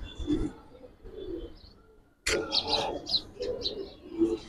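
Giribaz and silver pigeons in a loft give soft coos and chirps, with a brief fluttering burst partway through, mostly close and moderately loud.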